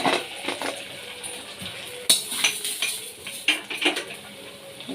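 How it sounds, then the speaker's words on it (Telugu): Fried tempering poured into cooked moong dal for pesara pappu pongali, then stirred with a metal spoon in a pot: scattered clinks and scrapes of utensil against pan with a faint sizzle, fairly close, no talking. "ఇప్పుడు వీటిని మనం పప్పులో పోసుకుందాం"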